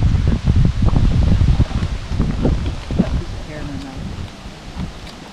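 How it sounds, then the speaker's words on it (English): Gusty wind at Breaks Interstate Park, Virginia, buffets the microphone in loud, rumbling bursts that gradually ease off. "It is windy up here."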